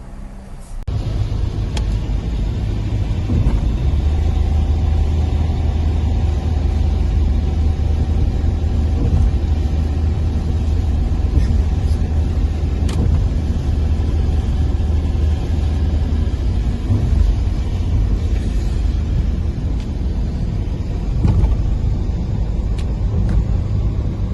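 Heavy highway traffic near New York in summer rain: a dense, continuous roar of car and truck engines and tire hiss, loud and unbroken, with occasional sharper passing swells.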